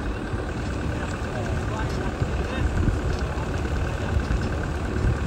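A tractor's engine idles steadily in a village, a continuous low rumble close by that stays even throughout with no clear change in pace.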